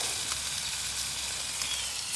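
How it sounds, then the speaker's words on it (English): Lamb burgers fry on a Bushbox XL stove fueled by a Trangia burner outdoors, a faint, continuous hissing sizzle with a few tiny pops, no voices. "See if we get a sizzle."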